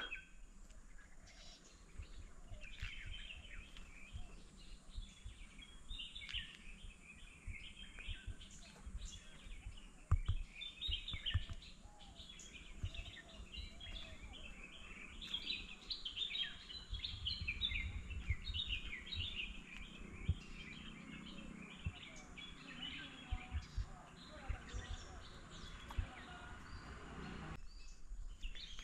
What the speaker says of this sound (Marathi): पक्ष्यांचो आवाज ऐका.